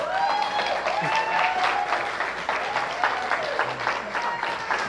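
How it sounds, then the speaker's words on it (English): A congregation at a Sunday church service claps steadily in sustained applause, dense and even, with a voice faintly audible underneath. "Another round of applause."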